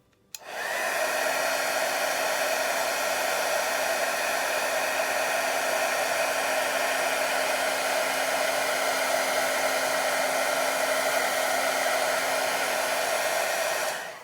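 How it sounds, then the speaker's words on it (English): A heat gun melts embossing glaze on a butterfly card, giving one loud, steady blowing whir that runs unbroken for about fourteen seconds and stops abruptly, with no voices. "make sure when you're embossing, your heat gun is facing away from you"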